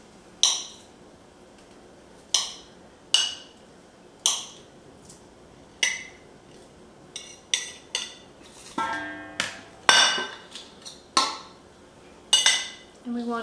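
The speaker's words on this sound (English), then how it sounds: "now I'm going to cut in the butter" Butter is cut into a date-square crumb mixture in a bowl, giving a series of sharp metallic clinks and scrapes of a utensil against the bowl, spaced irregularly at first and then coming faster and closer together.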